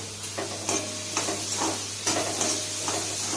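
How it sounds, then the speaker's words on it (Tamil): Onions frying in a pan with a pinch of salt for chicken gravy, a steady hiss of oil overlaid by rhythmic scraping stirs about every half second, close and clear with no talking. "வெங்காயம் சீக்கிரம் ஃப்ரை ஆகணும்னா கொஞ்சம் உப்பு, முன்னாடியே உப்பு கொஞ்சம்"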